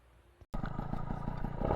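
A brief click, then an MBK 51 Magnum moped engine sputters to life and runs with a rapid, rough putter, close by and growing slightly louder.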